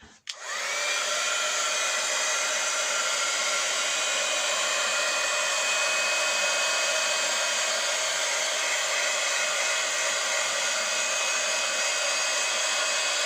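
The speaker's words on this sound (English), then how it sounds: "let's get the heat gun going over here." A heat gun switches on with a brief click and then blows continuously, a loud, close, even rushing whine that holds steady for the remaining thirteen seconds with no talk.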